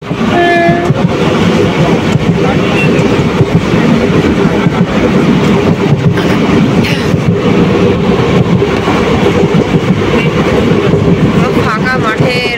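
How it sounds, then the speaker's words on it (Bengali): The 13465 Malda Town Intercity Express runs at speed between Howrah and Nabadwip Dham, a loud, continuous rumble of wheels and carriages with rhythmic rail clatter throughout. "দারুণ স্পিডে বেরিয়ে যাচ্ছে ট্রেন।"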